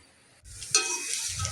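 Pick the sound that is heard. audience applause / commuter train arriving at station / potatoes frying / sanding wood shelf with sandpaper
potatoes frying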